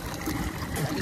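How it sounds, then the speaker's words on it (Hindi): Thin stream of water trickling steadily from a solar-powered tubewell outdoors, a continuous close, moderately quiet splashing flow with no voices. "ये सोलर पे चलता है, अभी थोड़ा थोड़ा पानी आ रहा है"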